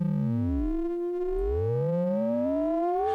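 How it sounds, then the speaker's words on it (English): A Lagrange software synth sounds an amplitude-modulated tone, its pitch sweeping up and down in wavy glides that turn into a steady rising whine, clean and alone without any talk. "Then we've got this AM modulation, amplitude modulation."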